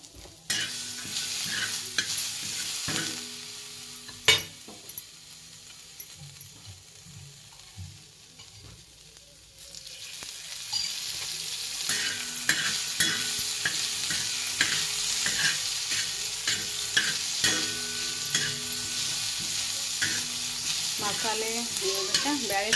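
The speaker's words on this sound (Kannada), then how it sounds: "ಕರಿಬೇವು ಬೆಳ್ಳುಳ್ಳಿ ಇದನ್ನು ಎಣ್ಣೆಯಾಗ ಕರ್ಕೊಂಬಿಡ್ತಾನೆ ರೀ" Curry leaves and garlic frying in hot oil, a soft continuous sizzle with repeated sharp clicks and scrapes of a spoon stirring the pan, quiet at first and then louder from about ten seconds onward.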